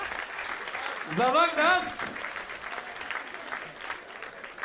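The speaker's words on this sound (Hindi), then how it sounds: "अरे बाप रे, क्या तालियां आ गई हैं" Audience applause at a live Hindi comedy poetry show, a steady spread of clapping under an excited voice and sustained to the end.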